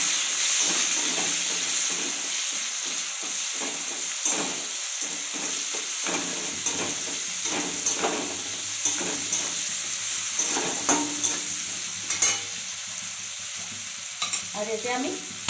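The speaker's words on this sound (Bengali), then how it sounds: "এবার এর মধ্যে দিয়ে দিচ্ছি আমি পেঁয়াজ কুচি। পেঁয়াজের মধ্যে আমি সামান্য নুন দিয়ে দেবো যাতে তাড়াতাড়ি ভাজা হয়ে যায়।" Chopped onion with a pinch of salt frying in a pan for a spicy stingray fish curry, a strong close hiss and sizzle with repeated scraping strokes of a spatula stirring throughout.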